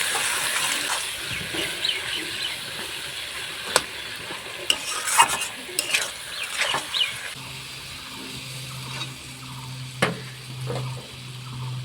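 Chilli paneer ingredients with sugar and salt stir-fry in a pan, a steady close sizzle broken by scraping spatula strokes and clinks, with a low hum entering near the end.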